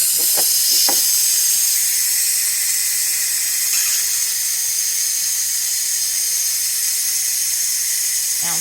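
Steam vents steadily from the released seal of a pressure cooker holding butternut squash and green beans, a loud, continuous high hiss with a few faint clicks at the start.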